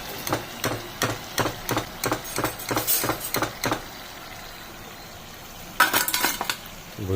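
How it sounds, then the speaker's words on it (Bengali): Crispy fried chicken samosas dropped onto a plate, giving a quick run of sharp, crackly taps in a steady rhythm, a pause, then a second short burst of clattering hits. "এটা যখন ফেলছি আওয়াজটা বুঝতে পারছেন তো আমাদের কতটা ক্রিপসি হয়েছে"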